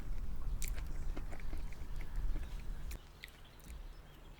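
Someone chews sweet durian fruit close to the mic, with soft wet biting and mastication sounds repeating irregularly, louder at first and then quieter toward the end.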